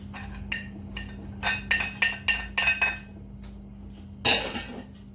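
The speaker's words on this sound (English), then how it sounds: "Just scrape the onions into the frying pan." Onions being scraped into a frying pan in a home kitchen: a string of light metallic clinks and taps of a utensil against the pan, building into quick bursts before one louder clatter near the end, over a steady low hum.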